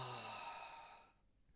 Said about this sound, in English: And have a big yawn.